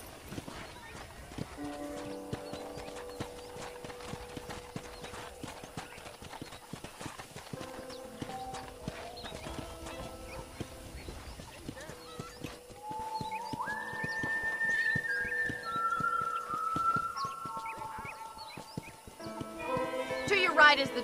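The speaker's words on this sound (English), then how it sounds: "I picked out a fine horse for you." Steady clip-clop of horse hooves at a walking pace in the video game Red Dead Redemption, with background music and people talking over it.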